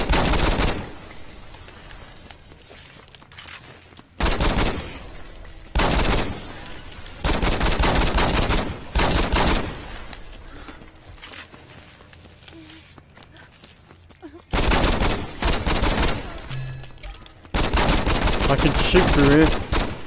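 Automatic gunfire rings out in the video game Saints Row 2 in several loud, dense bursts of a few seconds each, separated by quieter gaps, with a voice talking in between.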